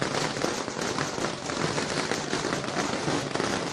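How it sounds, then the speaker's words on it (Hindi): Dense, continuous crackling bursts of fireworks at an election victory celebration in India fill the air without pause, loud and busy like a sustained barrage. "आतिशबाजी।"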